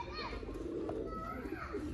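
Soft pigeon cooing sits under a busy background of children's voices and chatter, faint and somewhat distant.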